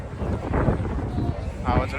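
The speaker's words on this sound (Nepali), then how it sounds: "सुर्र हावाको साउन्ड आउँछ अहिले" Gusting wind at the Sydney Opera House buffets the microphone in a continuous rumbling rush, with voices talking underneath.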